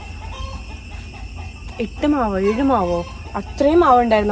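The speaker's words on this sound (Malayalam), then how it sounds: "കോഴിയുടെ ശബ്ദം കേട്ടോ." A chicken clucks in a few rising, close calls at an ancestral family house, overlapping with a person talking nearby.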